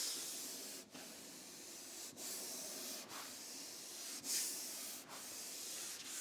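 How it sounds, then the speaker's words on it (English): Hand rubbing back and forth over a primed VW T25 panel, a close, steady hissing sweep repeated in about six strokes with brief pauses between them. "So now if I run my hand down there, I can feel for any imperfections."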